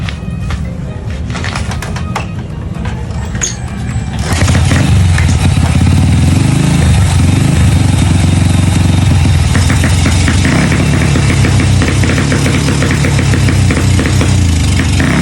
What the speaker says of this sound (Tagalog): Idle rumble